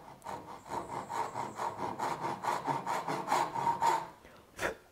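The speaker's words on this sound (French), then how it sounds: "On a besoin ici d'une scie qui est précise." A precise hand saw cuts wood for a dovetail joint, making steady rhythmic rasping strokes, about a dozen back-and-forth passes, close and fairly loud, ending with one sharper final stroke.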